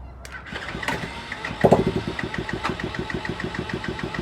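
Small X6 pocket bike engine catching and running at a rough, rapid idle, its regular popping exhaust pulses close and loud after a brief starting burst.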